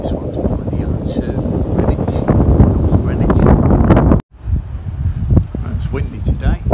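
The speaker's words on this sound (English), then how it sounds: "Windy today." Strong wind buffets the microphone in loud, continuous gusts beside the River Thames near the O2 in London, with a brief sudden drop before the rumbling resumes.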